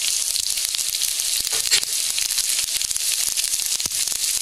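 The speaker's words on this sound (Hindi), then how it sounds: "इसके बाद इसमें हम बीन डालेंगे।" Beans drop into a pan of lightly browned, sizzling vermicelli upma, and a steady bright hiss of frying runs throughout with small crackles, close and continuous.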